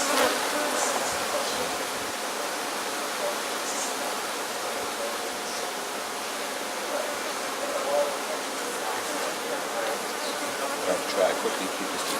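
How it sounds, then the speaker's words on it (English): A swarm of honey bees buzzes in a dense, steady drone throughout a hive relocation, loud and close and filling the air without letup, with voices speaking faintly underneath at times. "There's so many bees."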